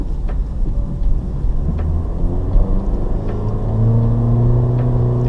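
A 2023 Honda HR-V with front-wheel drive pulls away from a stop, its engine rumble and tyre roar rising steadily as the engine note climbs, heard close from inside the cabin.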